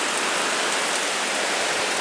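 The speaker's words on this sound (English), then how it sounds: "Get rained on in here, even in this corner." Heavy rain pouring down steadily, a dense, even hiss with no pauses, close and loud.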